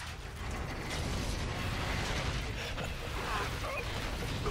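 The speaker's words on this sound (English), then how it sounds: "Let's get this door open, Reyes." A door mechanism grinds open in Call of Duty Infinite Warfare, a steady creaking, ratcheting mechanical churn with gear-like clatter throughout, fairly loud and close, with faint background voices.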